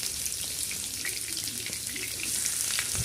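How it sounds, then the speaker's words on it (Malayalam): Chopped onions dropped into hot oil for chicken curry, giving a steady close sizzle with scattered crackles and pops that runs unbroken and grows slightly livelier toward the end. "നമുക്ക് അരിഞ്ഞച്ച വലിയുള്ളി ഇട്ട് കൊടുക്കാം."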